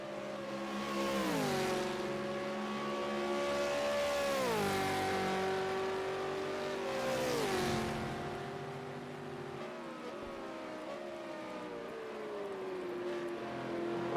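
V8 Supercar engines in a racing video game at Bathurst's Mount Panorama, a steady loud engine drone with pitch swooping up through gears and dropping sharply under hard braking, sustained alone without talk.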